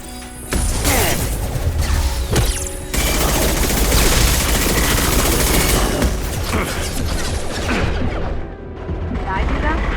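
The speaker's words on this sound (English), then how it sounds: "Firing a high-impact shot." A Mass Effect 2 high-impact shot goes off amid a dense, continuous barrage of gunfire, crashes and mechanical clatter in a loud combat scene, with voices mixed in.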